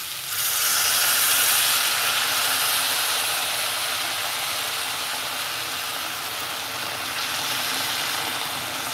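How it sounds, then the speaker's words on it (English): Hot water pours steadily from a kettle, a broad hissing, steamy rush that starts abruptly and holds at a fairly loud, even level throughout, with no talking. "Some water from the kettle."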